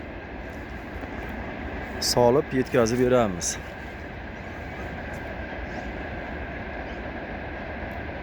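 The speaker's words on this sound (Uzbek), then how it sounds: "Uyimizga yaqin joyda temir yo'l bor, poyezd o'tyapti." A train passes on a railway close to a house, a steady broad rumble running the whole way through while a person talks briefly partway in.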